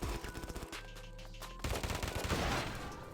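Gunfire in the mobile shooter Afterpulse: a burst of rapid automatic shots, a short pause with a low tone, then another loud stretch of fast gunfire, all close and dominant.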